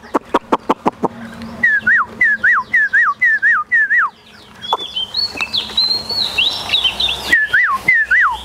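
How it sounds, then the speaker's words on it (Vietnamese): A Chinese hwamei songbird sings loudly and close, opening with a quick run of sharp clicking notes, then repeated looping whistled phrases and higher rising warbles. "chú chim họa mi số 1 anh nhá. Số 1 bắt đầu hot rồi anh em ơi"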